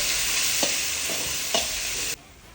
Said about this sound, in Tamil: துருவண மாங்காய் போட்டு நல்லா கலக்கிக்கலாம்